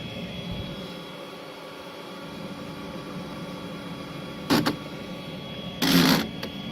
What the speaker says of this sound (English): This has still got some vacuum action going on.